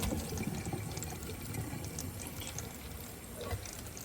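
Water from boiled tapioca poured off to drain, a steady splashing, trickling flow running close and fairly loud for the whole stretch, with no talk over it.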